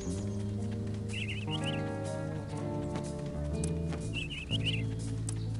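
A glowing bird in the video game Psychonauts gives two brief bursts of high chirps, faint and a few seconds apart, over steady background game music.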